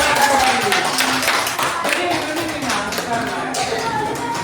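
Students in a classroom clap for a winning group, a busy scatter of close hand claps that fades slightly over a few seconds, with some voices mixed in.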